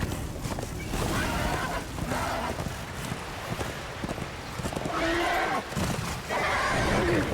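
A horse in the video game Darksiders 2 whinnies and neighs several times over windy ambience and hoof sounds, fairly close.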